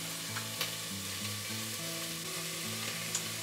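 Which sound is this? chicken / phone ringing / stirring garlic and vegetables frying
stirring garlic and vegetables frying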